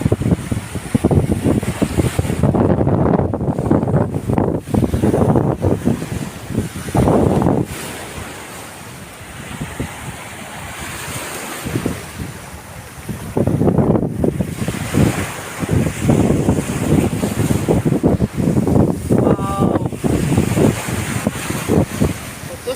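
Sea surf washing onto a sandy beach in Italy in repeated surges, with strong wind buffeting the microphone throughout; a voice murmurs faintly in the background.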